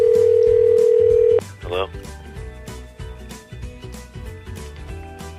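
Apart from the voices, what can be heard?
telephone ringing tone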